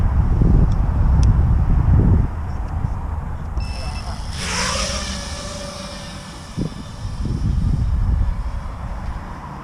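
An FPV drone on a 4S LiPo battery spools up to full throttle on takeoff, its motors rising into a sharp high-pitched whine midway through, with wind buffeting and people talking around it.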